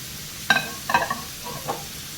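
Chopped capsicum sautés on high flame, a few sharp scrapes and tosses of a spoon rising over a soft, constant sizzle.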